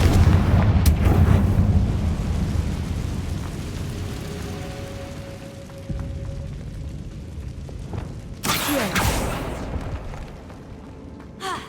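Confringo explosive spell blasts in the video game Hogwarts Legacy, heavy booming bursts with a rumbling decay, one loud blast near the start and another crackling burst later amid lingering game ambience.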